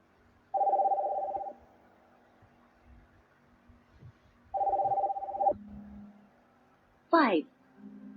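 Telephone ringing during a phone conversation, heard as two long steady ring tones about a second each, four seconds apart, followed by a brief chirp and a lower tone, at moderate loudness.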